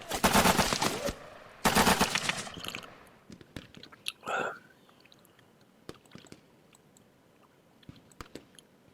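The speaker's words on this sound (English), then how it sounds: "He's shooting at my scouts." Gunfire in the tactical war game Lock 'n Load Tactical: two loud bursts of automatic fire at the start, followed by a sparse few faint clicks and pops, with a voice speaking briefly.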